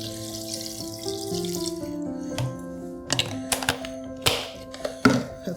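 Bottled spring water pours into a pot for chicken stock, a rising gurgling tone as the vessel fills, then stops, followed by several sharp thunks and clatters of the bottle and pot nearby.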